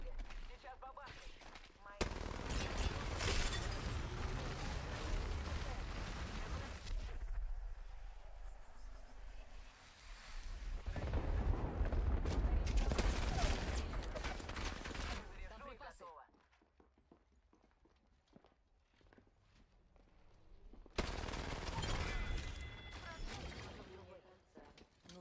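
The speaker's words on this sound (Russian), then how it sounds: "Артиллерийский удар по моей команде. Сейчас бабахнет." An artillery strike in Apex Legends unleashes heavy bursts of explosions and rapid gunfire in loud waves, with quieter gaps between volleys and players talking throughout.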